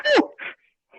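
A person sneezes once, sharp and loud at the start, followed by a couple of fainter breathy after-sounds in an otherwise quiet room.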